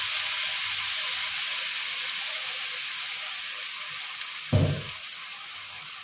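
Paneer fries in a hot pan with a steady, even sizzle and hiss, flipped with both sides browned while the water cooks off; a brief low thump of the pan or spatula sounds near the end.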